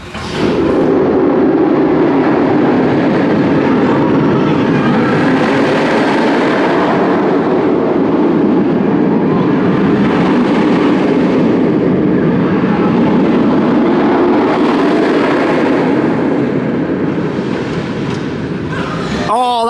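Medusa, a B&M roller coaster at Six Flags Great Adventure, heard as a continuous loud roaring rumble from the track during the ride, steady for about twenty seconds with wind noise and no clear talk.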